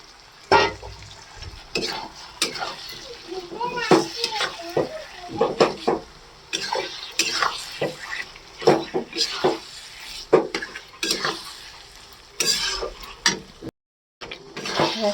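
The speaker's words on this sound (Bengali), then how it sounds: "এখন আমি এবার চিকেনটা দিয়ে দেবো।" Chicken cooking in a pan of spiced masala, with frequent metal scrapes and clinks as a spoon stirs against the pan over a faint sizzle, close and uneven, cut by a brief dropout near the end.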